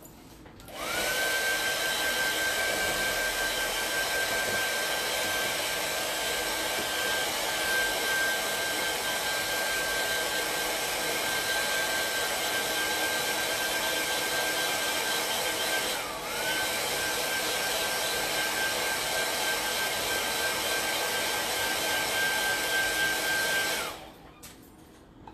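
A hair dryer blows steadily and close for over twenty seconds, drying paint on a 3D art piece, with a brief dip in its whine midway before it switches off.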